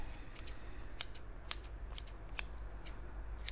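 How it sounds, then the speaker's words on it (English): Standard paper scissors from a supermarket sewing kit are handled, giving a series of sharp metallic snips and clicks at an irregular pace, close and fairly quiet over a low background hum. "they're like your standard paper scissors"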